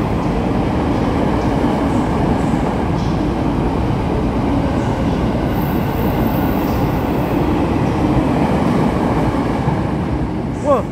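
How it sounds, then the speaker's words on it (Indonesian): A KRL commuter electric train speeds through Gambir station in a loud, steady, close rumble of wheels and rails that holds without a break. "Wah, gila, KRL-nya ngebut banget."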